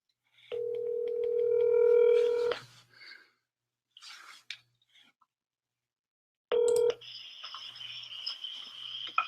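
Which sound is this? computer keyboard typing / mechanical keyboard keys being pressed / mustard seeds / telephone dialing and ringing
telephone dialing and ringing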